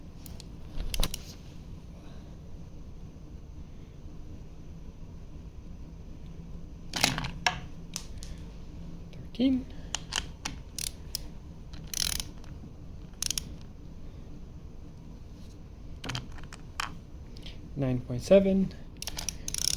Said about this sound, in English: I will be testing them with a digital torque wrench